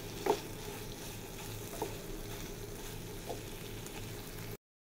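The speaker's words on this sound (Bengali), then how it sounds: "10-15 মিনিট সুন্দরভাবে আস্তে আস্তে করে ভেজে নিব" Shrimp cooked with ground coconut paste fry slowly in a pan, making a soft, low, continuous sizzle with a couple of light stirring clicks, before the sound cuts off abruptly.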